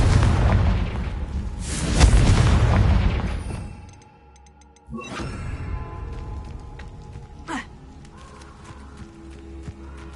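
A Confringo fire spell blast in the Hogwarts Legacy video game, a heavy rumbling explosion that swells and then fades, followed by a second, softer burst and scattered debris and crackle, with no talking.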